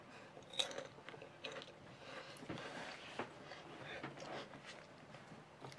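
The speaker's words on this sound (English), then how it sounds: "Sorry if you hear me crunching the Skips" Faint close-up crunching of Skips crisps, irregular bites and chewing with brittle cracks over quiet room background.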